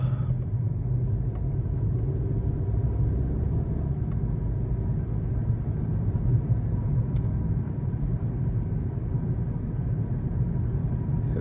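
Steady low engine rumble and road noise from inside a 2017 Volkswagen Passat cruising city streets, even and continuous with no voices.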